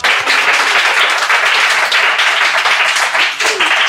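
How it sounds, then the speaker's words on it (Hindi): Loud, sustained applause from an audience at a motivational speaking event, greeting a speaker coming onto the stage, dense and continuous throughout. "जोरदार तालियों से स्वागत कीजिएगा क्योंकि ये हमारी महफिल की जान है"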